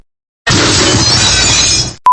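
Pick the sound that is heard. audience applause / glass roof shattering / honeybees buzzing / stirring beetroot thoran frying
glass roof shattering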